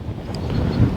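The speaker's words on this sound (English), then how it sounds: "It's like crazy windy out here." Strong wind roars and buffets the microphone in a continuous low rumble, with no voices.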